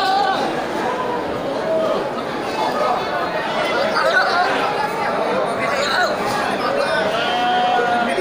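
Goats, including a lively billy goat, crowd a busy Gelompang Payung livestock market for sacrifice animals, giving steady scattered bleats beneath dense human chatter and bustle throughout.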